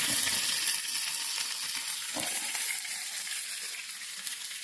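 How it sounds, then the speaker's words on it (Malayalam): Curry leaves, chopped ginger and garlic sizzle in hot oil with a bright, continuous crackle that slowly eases, broken by a soft stirring scrape near the middle. "എണ്ണ ചൂടായിട്ടുണ്ട് അതിലേക്ക് നമ്മൾ കറിവേപ്പില ആഡ് ചെയ്യുന്നുണ്ട്"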